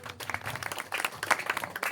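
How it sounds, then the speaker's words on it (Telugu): An audience at a gathering applauds, with scattered claps building into brisk, uneven clapping heard fairly close. "ఒకసారి మేడం గారికి చప్పట్లు కొట్టాలి అందరూ"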